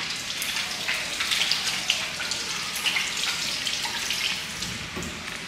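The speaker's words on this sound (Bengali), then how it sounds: "এই যে নিজের হ্যান্ডটাও একটু ধুয়ে নিই" Hands are rinsed under a running kitchen tap while mutton is being cooked, making a steady, close splash of flowing water that stays even for several seconds without talk.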